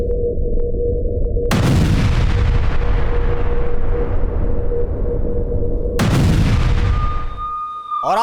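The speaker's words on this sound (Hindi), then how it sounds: "पूरा जो गोला बारूद का डिपो था उसे उड़ा दिया गया है, तबाह कर दिया गया है" An ammunition depot blows up after a kamikaze drone strike in the Russia-Ukraine war, with two heavy, sudden blasts about four seconds apart, each followed by a long rumbling decay, loud and close, with no talk.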